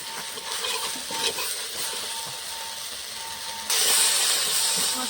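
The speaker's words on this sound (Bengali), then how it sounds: "মশলাটা একটু কষিয়ে নেব।" Ground coriander and Kashmiri chili powder fry in a pan for a vegetarian potato and chickpea curry, giving a steady, close sizzling hiss with light crackles that grows louder near the end, with no talking.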